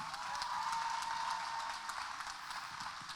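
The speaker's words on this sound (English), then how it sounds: "Let's give them a round of applause" An audience gives a round of applause at a public rally, scattered clapping heard at a distance, steady and fairly faint for a few seconds.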